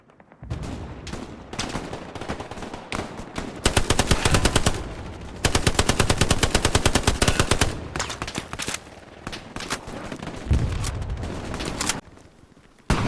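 Long, loud bursts of rapid automatic gunfire in Hell Let Loose, close and sustained over several seconds, with shorter volleys and pauses between them and no talking.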